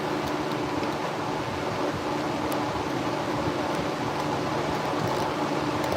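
Fan running in a messy workshop, a continuous broadband whoosh with a low hum, steady and fairly loud throughout with no voices.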